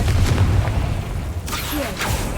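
Confringo blasting spell in Hogwarts Legacy, a deep boom at the start fading into rumble, followed by a couple of sharper bursts.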